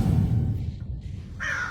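A crow gives a single harsh caw near the end, loud and close, after a stretch of low rumbling background.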